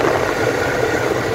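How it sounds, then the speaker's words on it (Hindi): A new car's air conditioner blowing on its highest setting inside the cabin, a steady, fairly loud whooshing rush over a low humming drone, constant throughout. "आप साउंड सुन सकते हैं एसी का।"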